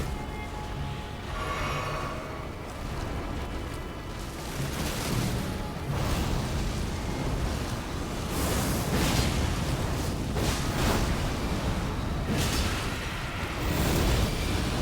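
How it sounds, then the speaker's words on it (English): Dense, continuous rumbling blasts with repeated bursting booms layered over Elden Ring game noise, loud and sustained throughout. "No explosions, please. No more explosions from you."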